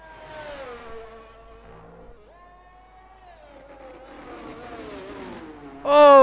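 Race car engine in a racing video game on a push lap, revving and accelerating through gear changes with rising and falling pitch, a shift near two seconds and a loud surge at the end.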